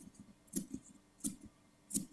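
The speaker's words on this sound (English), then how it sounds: "So now we're going to snip the armholes just so that we have no tension here" Scissors snip fabric at the armholes of a flower girl dress bodice, giving three sharp, quiet cuts spaced evenly and heard close up in a quiet room.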